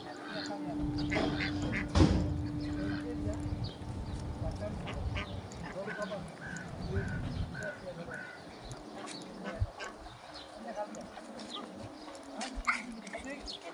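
Ducks quack at a pond during a family outing, scattered calls over a busy outdoor background, with people talking nearby and a dog-like bark mixed in.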